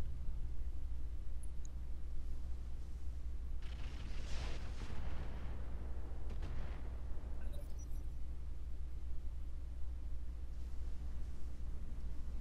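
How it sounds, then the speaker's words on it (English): Mech weapons fire in the Roguetech battle game: a few dull, booming bursts around the middle, mostly fairly quiet over a steady low rumble of background noise. "Finally you decided to shoot something."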